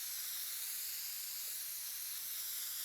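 Spray painting in the video game Teardown: a steady, continuous aerosol hiss lasting the whole stretch, fairly quiet and unbroken, with no voices.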